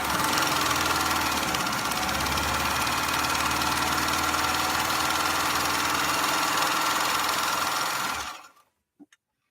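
A black Pfaff 230 sewing machine runs fast and steady while stitching a pattern, its motor humming loudly for about eight seconds before stopping abruptly, followed by a couple of faint clicks.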